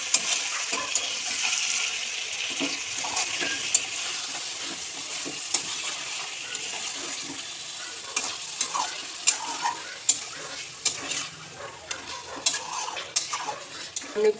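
Chicken pieces fry in a pan with spices as a spoon stirs and scrapes steadily, a continuous close sizzle dotted with sharp clinks of utensil against the pot.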